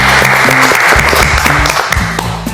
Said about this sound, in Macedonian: Аплауз молам.